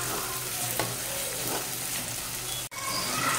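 Shallots and curry leaves sautéing in a pan for prawn thokku, a loud, continuous crackling sizzle that fills the short stretch, with a brief dip near the end.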